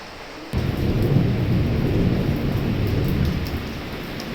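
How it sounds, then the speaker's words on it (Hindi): Heavy rain pours down hard with a deep roll of thunder, surging in after a brief lull into a loud, constant downpour, with no voices. "बारिश बहुत तेज़ हो रही है"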